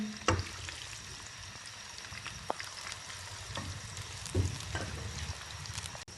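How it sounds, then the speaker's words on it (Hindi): Onions fry and brown in hot ghee for chana pulao, a steady crackling sizzle broken by a few louder pops and stirring scrapes, close by and with no talking. "अब हम इसमें प्याज डाल के इसको ब्राउन करते हैं।"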